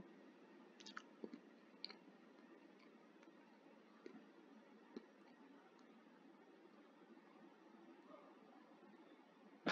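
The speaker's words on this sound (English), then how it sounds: "I am going to chew some gum." Gum being chewed close up, a soft continuous moist mashing with occasional small clicks and snaps, faint and heard alone without talk.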